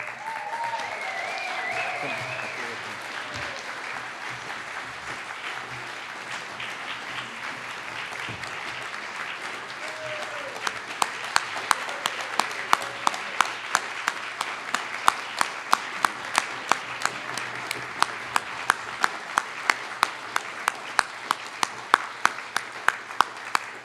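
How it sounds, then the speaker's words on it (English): At an art and design award ceremony, an audience murmurs and talks softly, then breaks into sustained, brisk hand clapping that grows louder and continues steadily for over ten seconds. "we can recognize them with cheers and applause"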